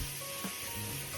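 Shaved steak, onions and sliced bell peppers sizzle in butter in a pan, a steady close frying hiss with a few brief stirring scrapes and no talking.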